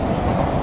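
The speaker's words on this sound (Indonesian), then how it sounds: "sebentar lagi akan segera melintas di sini. Persiapan melintas langsung di stasiun Gede Bage. Kereta api Papandayan." A Papandayan passenger train runs straight through Gedebage station, giving off a steady, loud, close rumble of wheels and cars with no pause.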